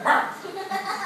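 A dog gives a short yip or bark close by, blended with lively Portuguese chatter in a home setting.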